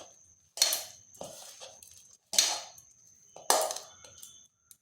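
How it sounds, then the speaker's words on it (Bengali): Sliced onions for methi vada are rubbed and mixed by hand in a bowl, making three short crunchy scraping bursts with pauses between them over a steady faint high whine. "এইভাবে ঘষে ঘষে মিশিয়ে নিতে হবে।"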